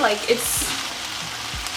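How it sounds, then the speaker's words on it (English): Pasta sauce simmers and sizzles in a pan with a steady broadband hiss, a few soft stirring scrapes, and a brief voice near the start. "you're just gonna simmer your sauce"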